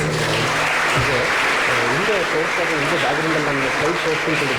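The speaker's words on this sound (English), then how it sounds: "A big round of applause because his achievements is around 4 full pages." Audience applause for a speaker being introduced at a pulmonology talk, a steady wash of clapping with voices mixed in throughout.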